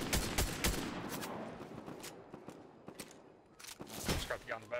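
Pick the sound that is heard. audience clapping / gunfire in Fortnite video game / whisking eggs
gunfire in Fortnite video game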